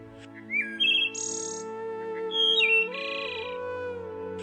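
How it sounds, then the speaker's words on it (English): Wood thrush singing in an eastern United States forest: a clear sequence of fluting whistled phrases ending in higher buzzy trills, close and prominent with no other sound around it. "The haunting call of the wood thrush."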